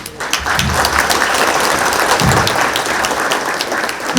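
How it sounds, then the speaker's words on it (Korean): Audience applause at a 2023 Daegu investment briefing in a hall, loud sustained clapping from a large crowd filling the whole stretch without letting up. "여러분 큰 박수로 맞이해 주시기 바랍니다."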